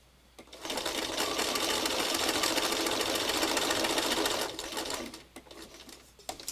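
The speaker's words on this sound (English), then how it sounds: "Again, don't sew over pins." Electric sewing machine stitching fabric, a fast steady whirring hum that runs close and loud for about four seconds, then slows and stops, followed by small handling clicks.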